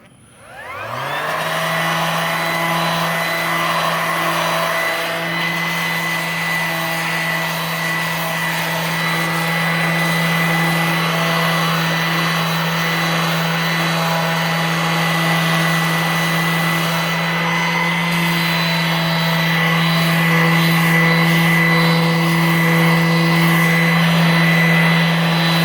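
A Ridgid 18V 5-inch cordless orbital sander runs on speed 4 with a steady, loud, high-pitched whine, spinning up quickly and holding a constant drone for the whole stretch.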